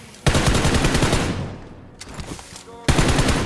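Enemy shotgun fire in the BGMI mobile battle royale game: two loud, close blasts about two and a half seconds apart, each with a rumbling tail, heard alone without talk.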